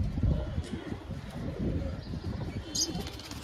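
Pigeon cooing from a Phulshila or Kalshila pigeon kept by a home breeder, low repeated coos close by, steady over a few seconds with faint chirps above.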